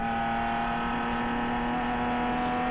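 Nissan Z race car in a ChampCar endurance race at Joliet, heard on board: a steady, loud engine drone with strong sustained harmonics under throttle, continuous through the moment.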